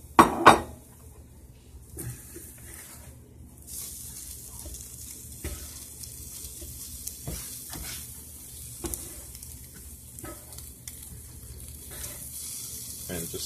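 A spatula or spoon scrapes and clinks gently against a pan while scrambled eggs with ham and cheese cook, soft sizzling underneath and one sharp clank at the start; no talking.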